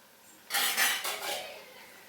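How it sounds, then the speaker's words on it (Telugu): A metal lid set onto a pot of simmering mushroom curry in a home kitchen, giving a brief clatter followed by a couple of softer knocks as it settles, close and fairly quiet. "ఇప్పుడు దీని మీద మూత పెడదాం"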